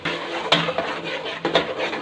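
Spices being stirred into onions in a cooking pot, with a few scraping clinks of a spoon against the metal pan over a steady low rustle, close and moderately loud.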